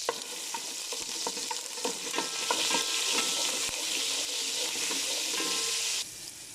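Sliced onion sizzles in hot oil in a pan, a steady loud crackling hiss with stirring clicks and scrapes throughout, cutting off sharply near the end.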